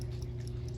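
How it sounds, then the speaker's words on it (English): A small dog runs past, giving brief soft whimpers and yips at low volume over a steady background hum. "Little doggy runs past"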